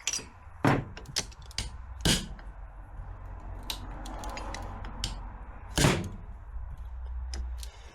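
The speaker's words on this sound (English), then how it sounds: "We'll just get a hammer and see if we can shock it." Hammer blows on a stuck motorcycle fork cap on a Beta Alp, a few sharp metallic knocks spaced irregularly, loud and close against a quiet workshop.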